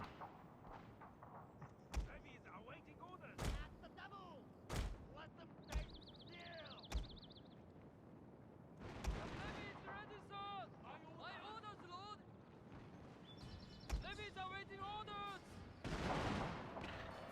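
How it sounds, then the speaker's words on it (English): Gunfire and heavy thumping blasts of a battle in the game Shogun II: Fall of the Samurai, irregular shots over a busy din, with voices talking throughout. "Gunfire has been opened up on the centre."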